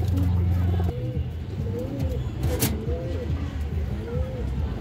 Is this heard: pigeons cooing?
yes